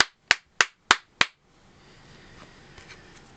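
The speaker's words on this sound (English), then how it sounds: "I'm going to give a few claps" Five sharp, evenly spaced hand claps ring out close and loud in a quiet room, each crisp and decaying quickly, followed by faint background noise.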